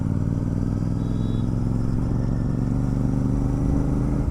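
A Royal Enfield GT 650 fitted with a Red Rooster exhaust and BMC air filter idles with a loud, steady, deep throbbing rumble; no distinct pops stand out.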